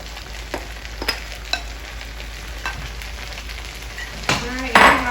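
Noodles fry in a little oil in a pan for a vegetable stir fry, a steady low sizzle broken by scattered clinks and scrapes, swelling into a louder burst as food hits the pan at the end.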